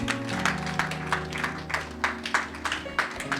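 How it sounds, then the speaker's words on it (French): An audience at a conference colloquium in a Brussels hotel claps steadily, the pulses of applause moderately close and even, with a faint voice at the start. "Sous vos applaudissements, s'il vous plaît."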